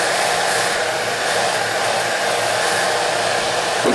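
A hot air gun blows continuously while heating a Kydex sheet for forming a holster light channel, a loud, steady whooshing hiss close by with no speech.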